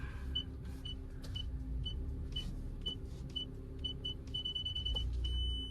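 Parking sensor in a Maruti Suzuki Fronx beeping while reversing: a steady series of short, evenly spaced high beeps that quicken and run into a continuous tone near the end, over low engine rumble inside the cabin.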